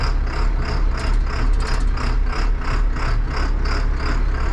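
A heavy tractor engine runs loud and close, its low chugging throb pulsing in a steady, regular rhythm throughout.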